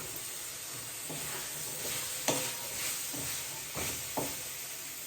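Chopped onion fries in hot oil in a home kitchen pan with a steady close sizzle. A few sharp scrapes and clacks of a stirring spoon break through the frying hiss.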